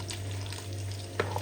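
Chicken adobo frying in a pan crackles in a faint steady sizzle with a couple of quick stirring scrapes near the end, a low hum underneath and no speech.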